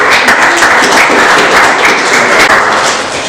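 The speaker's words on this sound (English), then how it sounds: "give a nice round of applause for her." Dense, steady applause from a crowd fills the space, loud and continuous throughout without pause.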